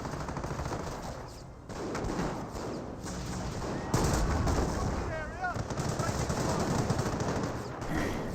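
Machine-gun bursts and rifle fire crackle across a Company of Heroes 1 battle between Commonwealth and Wehrmacht troops, with dense overlapping shots, a few heavier thuds and a commentator's voice running underneath.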